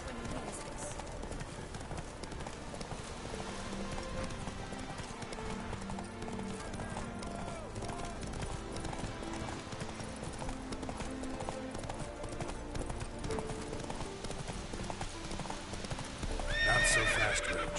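Roach, the horse in The Witcher 3, gallops steadily with rapid clip-clop hoofbeats across the whole stretch under game music and brief voices, ending with a sharp whinny near the finish.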